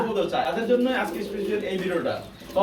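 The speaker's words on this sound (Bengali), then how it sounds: "বন্ধুরা কবুতর আছে ম্যাক্সিমাম বিশ জোড়া প্লাস" Pigeons on a pigeon farm coo softly in the background, partly masked by a person talking close by throughout.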